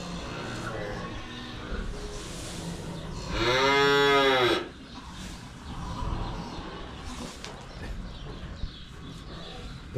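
A heifer calf in a barn pen gives one loud, drawn-out moo close by, lasting about a second. Soft rustling and shuffling from other livestock continue around it.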